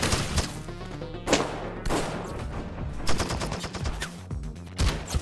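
Repeated gunshots and bursts of automatic fire from the FMV game Bloodshore, loud and close, cracking in quick irregular volleys with short gaps between them.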